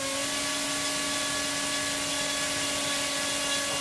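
The electric motor of a Hobbyking Funfighter Spitfire RC plane runs at part throttle, a steady, loud, close whine with a constant pitch and airy hiss throughout.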